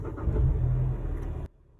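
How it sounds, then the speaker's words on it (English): A manual-transmission car engine starts and runs with a loud, steady low rumble for about a second and a half, then cuts off abruptly into quiet. "to start a manual car, you usually have to push down on the clutch and the brake and then push the button, or turn the key"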